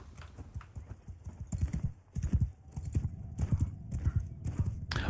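Horse hooves gallop in Mount & Blade 2 Bannerlord, a fast, steady clip-clop rhythm running throughout with a brief whinny, over low game background noise.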